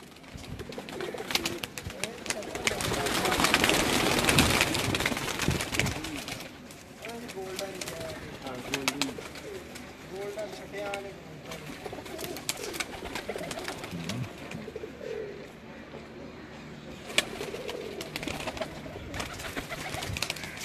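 Pigeons coo softly on a rooftop, low throaty calls repeating at a moderate distance beneath steady background noise and occasional human voices talking.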